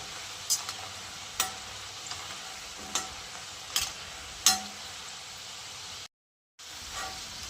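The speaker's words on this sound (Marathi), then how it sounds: "आपले भजे तळले" Bhaji fritters fry in hot oil with a steady broadband sizzle, punctuated by several sharp stirring clinks and scrapes, a brief silent gap near the end before the sizzle resumes.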